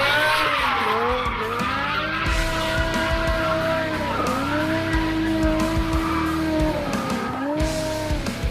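A BMW E60 M5 with its high-revving V10 screams through repeated rising and falling revs while its tires squeal and skid in long sweeping arcs, loud and close with no talk.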